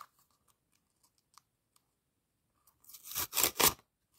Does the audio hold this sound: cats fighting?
no